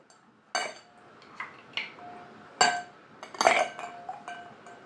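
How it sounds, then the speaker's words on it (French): Ice cubes clink into a glass for a Jack Daniel's Christmas cocktail, several separate sharp clinks and rattles at uneven intervals, close and fairly loud against a quiet background. "on rajoute des glaçons"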